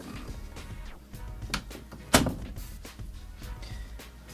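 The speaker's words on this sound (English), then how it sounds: "Let's close this door." An interior studio door swings shut with one sharp, close thud, preceded by faint shuffling and a few softer knocks in a quiet room.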